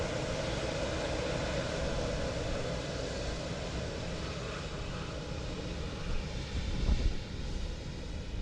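Aircraft engine roaring steadily at Dublin Airport, a continuous broadband rumble from a nearby plane that holds level throughout with a slight swell toward the end.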